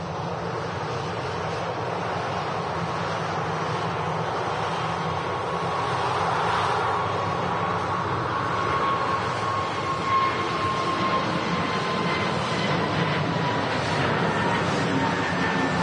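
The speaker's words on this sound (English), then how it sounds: "Beautiful Scandinavian Neo climbing out of Manchester there." A Scandinavian Airlines A320neo jet climbs out after takeoff from Manchester Airport, a broad distant roar that swells slightly midway and holds steady.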